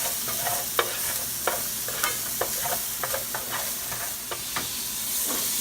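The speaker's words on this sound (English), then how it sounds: "Shallot brings so much flavor to a sauce. So we're just gonna saute them a little bit." Shallots sauté in a pan with a steady bright sizzle, punctuated by regular light clicks and scrapes of a spoon stirring them, close and clear with no talking.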